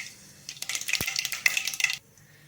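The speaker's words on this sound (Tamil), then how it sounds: "கடுகு பொரிஞ்சிருச்சு." Mustard seeds popping and spluttering in a pan of hot oil for a Tamil home-style dish, a dense burst of crackling pops that swells and fades over a couple of seconds, with one sharp knock of the pan partway through.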